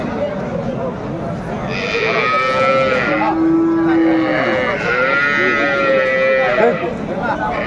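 Dairy cows and calves at a cattle market moo back and forth, several overlapping calls of varying pitch, one long low moo in the middle, with people talking underneath.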